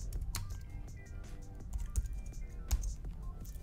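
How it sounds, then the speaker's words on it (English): Someone types a command on a computer keyboard at a console, with steady close key clicks and a few sharper, louder keystrokes, no voices. "I'm gonna type in the command docker-compose up."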